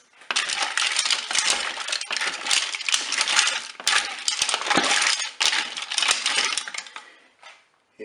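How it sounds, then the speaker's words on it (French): Mussels stirred in saffron sauce inside a Cookeo multicooker give a steady clatter of shells knocking and scraping against the metal pot, rattling continuously and loud for several seconds before tapering off. "Je vais replonger mes moules dans la sauce. Je vais mélanger tout ça."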